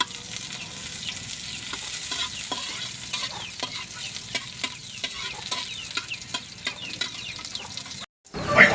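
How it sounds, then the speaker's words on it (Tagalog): Onion and garlic sauté in chicken oil, a continuous close sizzle punctuated by regular scraping taps of a spoon stirring the pan, ending with a brief dropout and a louder bump. "ginamitan nato na siya ng chicken oil tapos ato nagisahon ng atong sibuyas bawang"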